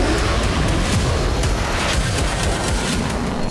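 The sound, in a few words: sonic boom from a fighter jet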